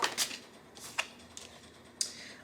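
Tarot cards are shuffled in quick, crisp riffling bursts, a few short papery rustles and flicks close by and fairly quiet, with small pauses between them.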